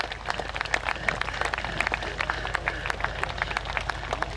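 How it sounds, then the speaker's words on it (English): Airshow crowd applauding pilot Mark Jefferies after his display at Little Gransden, steady dense clapping throughout with scattered sharper claps standing out, moderately distant and continuous. "A very well-deserved round of applause for Mark Jefferies there."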